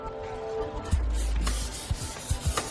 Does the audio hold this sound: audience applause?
no